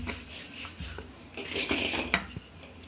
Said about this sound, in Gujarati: આ રીતે આપણે હવે પાટલીમાં થેપલાને વણી લઈશું